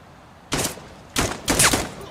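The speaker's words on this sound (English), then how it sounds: "We're under fire!" Gunfire from the video game Dagger Directive: three sharp bursts of shots, each a short loud volley, separated by brief pauses.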